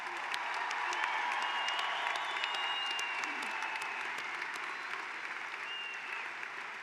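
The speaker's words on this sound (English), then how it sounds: "Please join me in showing our appreciation with a round of applause." Sustained applause from a commencement audience at a spring graduation ceremony: dense, even clapping from a large crowd that stays steady for several seconds, with a few sharper claps and a faint whistle standing out nearby.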